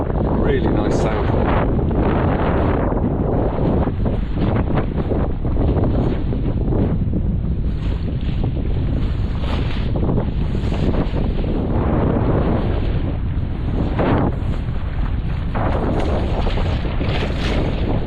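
Strong wind roaring across a Hanse 360 sailboat heeled over at sea under full main and jib, loud continuous gusting and microphone buffeting with water rushing, someone talking intermittently over it.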